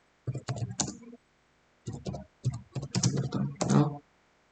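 Computer keyboard typing while entering commands into a router command-line interface during an OSPF routing setup, close keystrokes coming in several quick clusters separated by short pauses.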